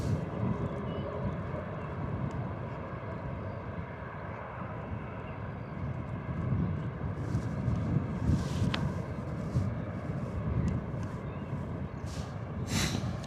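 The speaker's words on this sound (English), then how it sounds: "EasyJet heading out to Amsterdam. 251 variant Neo." An EasyJet Airbus A320neo jet heads out toward Amsterdam from Bristol Airport, its engines a broad, steady distant roar mixed with wind buffeting the microphone.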